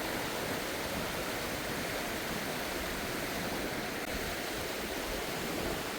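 River water rushing in a continuous broadband roar, steady and fairly loud throughout with no breaks, heard outdoors.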